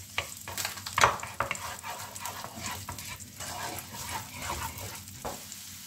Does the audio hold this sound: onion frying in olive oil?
yes